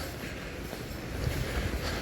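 An elevated commuter train in Philadelphia rumbles along at close range, a steady low roar of rolling wheels that swells slightly toward the end, with faint rattles and no talking.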